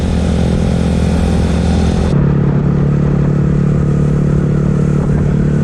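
Motorcycle riding alongside a Ducati, a loud, steady engine drone with close wind rush that drops in pitch partway through as the rider eases off, with no talk.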